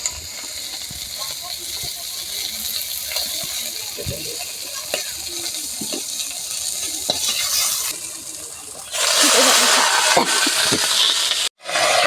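Potatoes and slit green chilies stir-fry in leftover fish-frying oil in a home kitchen wok, a steady sizzle broken by scattered clinks of a spatula, swelling louder and hissier near the end before a brief cutoff.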